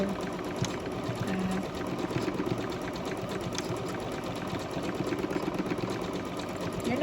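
A sewing machine runs steadily and close, stitching forward and back over elastic, a continuous dense mechanical whir without pauses.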